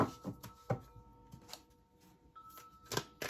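Laminated Lightseers tarot cards being shuffled by hand, giving several short, crisp slapping and riffling bursts spaced irregularly, close and fairly quiet, with a faint steady hum underneath.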